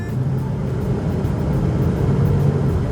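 Steady, continuous road noise and engine hum from inside a Subaru Forester Cross Sport cruising at 70 km/h, a broad low rumble holding even throughout with no talking.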